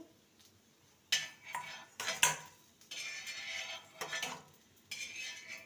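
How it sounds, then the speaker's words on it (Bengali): Fried soybean kebabs being lifted from a pan onto a plate, with several bursts of metal utensil scraping and clinking against the pan between quieter gaps, close up and without talk. "এবার একটি প্লেটে তুলে নেব এবার এগুলোকে তুলে নেব"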